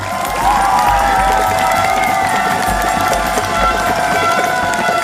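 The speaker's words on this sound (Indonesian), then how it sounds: "boleh tepuk tangan untuk mereka semuanya" Loud TV quiz-show studio audience noise with clapping, cheering and excited children's shouts, a continuous roar of applause and whoops throughout.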